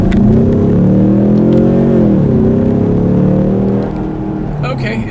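A 2016 Ford Mustang EcoBoost accelerates hard in paddle-shift mode, its engine note climbing, then dropping sharply at a quick upshift before rising again, loud and close from inside the car.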